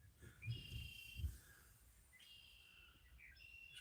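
Several birds chirp and whistle in short high calls over soft low rumbles, coming in two bursts of song, faint and somewhat distant outdoors near water.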